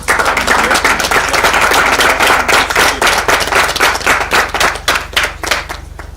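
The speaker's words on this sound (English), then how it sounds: "Let's give her a round of applause." An audience at a creative-industry master class claps for a presenter, loud, crisp hand claps that start thick and thin out into scattered individual claps toward the end.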